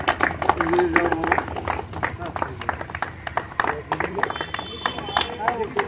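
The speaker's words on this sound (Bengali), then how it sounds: "সবাই হাততালি মাধ্যমে পুরস্কৃত করুন।" An outdoor audience claps steadily at a prize ceremony for a 6 km wheelchair marathon in Chopra, Uttar Dinajpur; dense, close hand-clapping continues throughout while someone speaks over it on a microphone.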